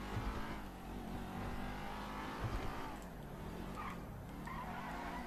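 A racing car's engine in the video game GTA V drones and shifts pitch while its tyres skid and squeal, all fairly quiet and continuous throughout.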